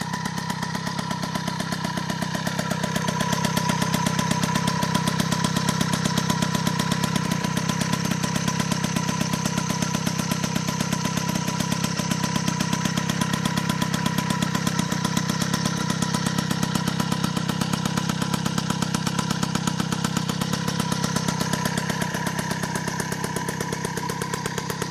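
A freshly rebuilt 1988 MBK 51 Magnum Racing moped engine idles steadily and close by, a constant buzzing two-stroke drone with no breaks.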